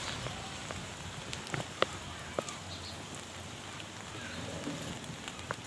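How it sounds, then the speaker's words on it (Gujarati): Heavy rain pours down steadily in strong wind, a dense, even hiss of drops hitting surfaces with a few sharper taps, close and continuous, with no voices heard. "કેવો વરસાદ આવે છે ગાઈસ."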